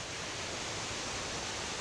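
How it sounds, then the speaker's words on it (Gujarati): Rainwater gushes down the stone steps of Pavagadh hill after a heavy downpour, a dense, unbroken roaring rush with no pauses. "ડુંગરના પગથિયા પર કઈ રીતે પાણીનો ધોધ વહી રહ્યો છે તે આપ જોઈ શકો છો"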